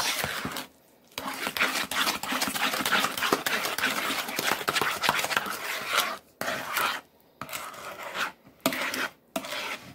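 A spatula stirs pumpkin pie filling in a mixing bowl and scrapes it along the sides, making steady close-up rasping and scraping with a few short pauses.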